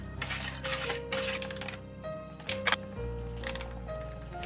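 A spoon clinks and scrapes around a bowl, stirring a sweet-and-sour sauce of sugar, vinegar, soy sauce, water and starch for pineapple pork, with steady close clatter under faint background music.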